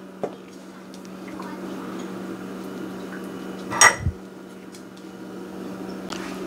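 A meatloaf pan is set into an oven with a single brief metallic clunk and rattle, heard over a steady low appliance hum.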